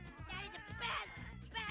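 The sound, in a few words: cats yowling in a cartoon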